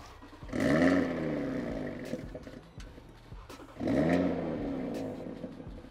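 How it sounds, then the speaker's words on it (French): An Audi RS3 exhaust on a cold start, two loud deep roaring bursts about three seconds apart, each settling into a rumbling idle between them, close by with no talk. "vous allez avoir vu et entendu le bruit de la RS3 au démarrage à froid"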